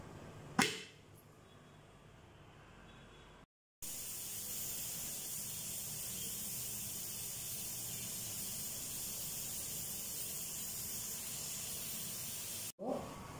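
A pressure cooker boiling potatoes vents steam in a loud, steady hiss lasting several seconds, broken by a short gap, with a sharp burst at the start and near the end.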